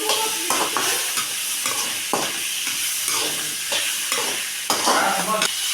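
Garlic and curry leaves fry in a pan while a spoon stirs them. A steady sizzle runs throughout, broken by rhythmic scraping strokes about every half second, close and fairly loud, with no talking.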